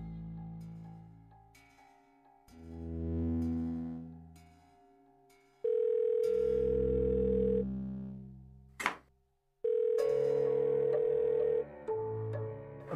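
Telephone tones while a call is being placed, with a steady dial tone and then separate beeps and ringback-like bursts, fairly faint and with gaps between them.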